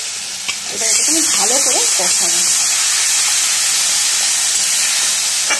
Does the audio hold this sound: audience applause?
no